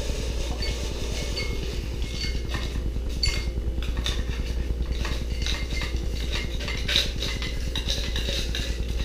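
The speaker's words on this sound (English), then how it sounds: "And then we're gonna stir." Spoon stirring a Kentucky Mule cocktail in a glass, close and steady, with a continuous run of quick, light clinks and scrapes and a low rumble underneath.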